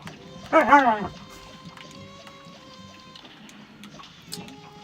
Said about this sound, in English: Singing Siberian Husky